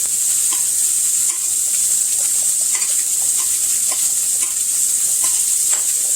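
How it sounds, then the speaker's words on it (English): Steady bubbling and hissing of boiling water as pasta is stirred in, with soft stirring sounds throughout, continuous and close. "I'm going to stir my pasta down into my boiling water"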